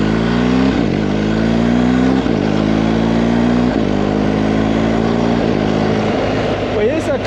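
A BMW R 1250 GS motorcycle engine revs through several rising pulls, each climbing in pitch and dropping back, loud and close with someone talking over it.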